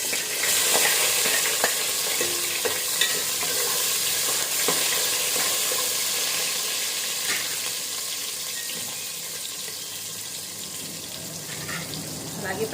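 Onions fry in a hot pan while coriander rice is cooked, with a steady, loud sizzle that continues throughout and a few faint clicks and stirring knocks.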